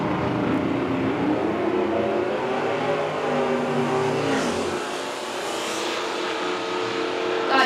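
A 1967 Chevelle and a 1967 Mustang drag race down a nostalgia strip, their engines blending into a loud, sustained roar that dips slightly midway before swelling again.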